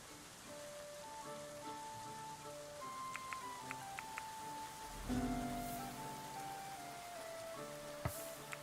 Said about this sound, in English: It's raining in our dining hall